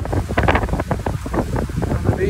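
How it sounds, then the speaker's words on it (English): Strong beach wind gusting at about 35 knots on an April day at Delray, roaring and buffeting loudly against the microphone as a continuous blustery rush, with possible faint voices mixed in. "Pretty windy today."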